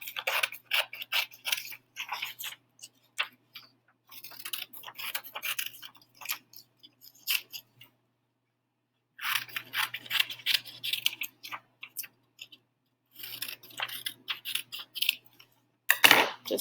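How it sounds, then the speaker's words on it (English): Scissors cut steadily around a paper page in runs of rapid crisp snips and rustles, close up, broken by a couple of short pauses and a faint low hum. "We are just going to cut all the way around the outside of this"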